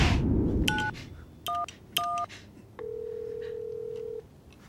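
Telephone keypad tones as a number is dialed for an emergency call: a few short, separate beeps followed by one long steady tone, fairly clear and alone with no talking.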